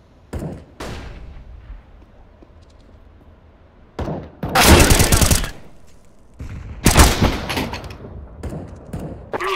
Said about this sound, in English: Throwing grenade. Throwing flashbang.